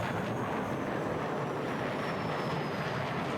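A fighter jet in the Battlefield 6 video game flies low with afterburner, a steady loud roaring rush with a faint whistling whine that fills the whole moment without a break.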